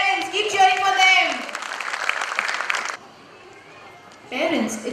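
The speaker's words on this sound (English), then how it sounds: "come on parents, keep cheering for them" Parents clap and cheer at a kids' annual day celebration, a loud burst of applause and shouts that drops off briefly before another round of clapping rises near the end.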